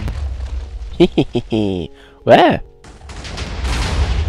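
Minecraft explosion going off behind the player, a loud burst with a rumbling tail around the middle of the clip, surrounded by excited giggling and chatter.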